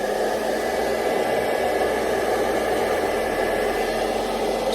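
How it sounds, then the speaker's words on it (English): A hair dryer on its heat setting blows continuously at full power, a loud, steady whooshing hum that never lets up. "take your blow dryer and you're gonna turn it to heat"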